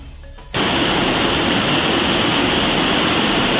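Bagacay Falls in Macrohon, Southern Leyte, roars in after a brief quiet moment, a loud dense steady rush of falling water that fills the rest of the clip without talk.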